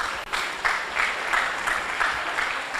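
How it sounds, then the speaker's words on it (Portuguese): A seated audience at a law faculty event at the University of Lisbon gives a round of applause, steady dense clapping with slight rhythmic swells, close and without talk over it. "Uma salva de palmas também, por favor."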